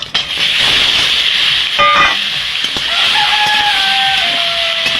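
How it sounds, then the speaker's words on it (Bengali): Prawns dropped into hot oil in a pan for prawn malai curry, a loud, close, continuous hiss and crackle of sizzling with a few clattering touches, no talking. "তেলটা গরম হয়ে গেছে, আমি মাছগুলো দিয়ে দেবো।"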